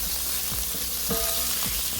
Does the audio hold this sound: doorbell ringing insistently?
no